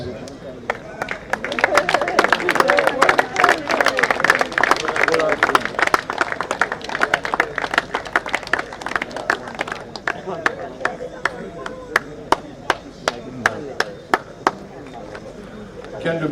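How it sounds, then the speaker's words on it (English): An audience applauds at an award presentation, a dense burst of clapping that thins out into scattered individual claps, with voices talking underneath. "Give it a nice round of applause"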